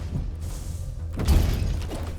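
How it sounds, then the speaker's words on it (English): An explosion in the action video game Death Must Die, a sudden crashing burst with shattering debris that rises over a low game rumble, then rings out briefly. "That's the explosion we're looking for."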